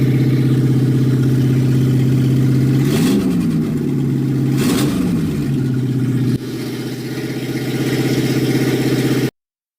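An engine runs at a steady idle with a strong low hum, rising briefly in two quick revs before settling back, loud and close throughout.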